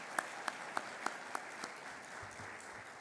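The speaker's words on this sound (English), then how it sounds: "Let's give yourselves a quick round of applause" Several sharp, isolated claps ring out about a third of a second apart in a plenary session room, then thin out into quiet room tone with low rumble.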